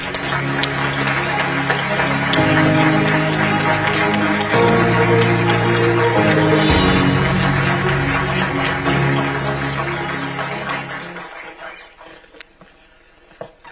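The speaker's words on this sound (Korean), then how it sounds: "여러분, 이재명 대통령님을 뜨거운 박수로 맞아주시기 바랍니다." An audience of business people at a Korea-India business forum applauds to welcome the Korean president. The applause is loud and sustained for about eleven seconds under music before it fades away.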